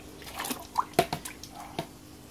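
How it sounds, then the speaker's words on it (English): Freshly harvested worm castings dropped into water to brew worm tea, giving a few close wet plops and drips scattered over a couple of seconds. "we get our nice castings in there from we just harvested, and we're going to put them in the water"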